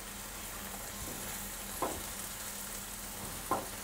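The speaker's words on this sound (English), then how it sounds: "Liberty, can you put in the mushrooms and the peppers for me? That's it, you keep stirring, Madalena." Mushrooms and peppers frying for a family tortilla sizzle steadily in a pan, with two brief clacks of the stirring utensil against it, close and without voices.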